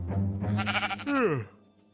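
A sheep in the video game Minecraft gives a single short, wavering bleat, close and moderately loud, fading out quickly at the end.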